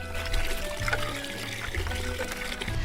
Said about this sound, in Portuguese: Bastam algumas bombeadas para que logo a água comece a jorrar da cisterna e encher o balde.